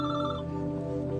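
A telephone rings with a sustained electronic bell tone, close and steady, in an office scene, with no talking over it.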